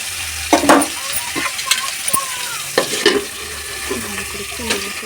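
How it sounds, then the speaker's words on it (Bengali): Pumpkin pieces drop into hot oil and fry with a loud crackling sizzle, punctuated by sharp spatula scrapes and metallic clinks against the pan, close and busy throughout. "তেলেতে কুমড়োটা আস্তে করে দিও, যেন আবার গায়ে তেল ছিটকে না পড়ে"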